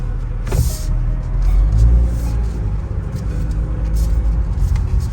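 A 2022 Cadillac CT5-V on the road, heard from inside the cabin as a steady low engine rumble and road noise with a slight swell as it pulls forward, no voices.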